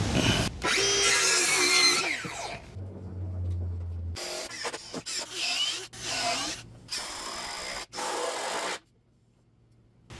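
Wooden diagonal braces for a tree fort playground being cut, with a loud power-tool whine and rasping bursts that start and stop several times, separated by short pauses and a low hum.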